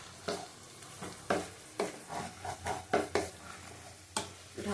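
Chicken sizzles in a pan as milk goes in and gets stirred, with a string of close scraping stir strokes at a steady rhythm over a soft, continuous fry.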